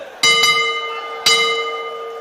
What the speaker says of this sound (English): the bell will go to end the first round